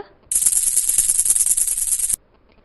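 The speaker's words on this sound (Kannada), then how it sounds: "ಗಿಲಿಕಿಯ ಶಬ್ದ" A baby's rattle is shaken steadily for about two seconds, making a bright, dense, close-up jingling rattle with fast, even pulses. The sound starts and stops sharply, with quiet on either side.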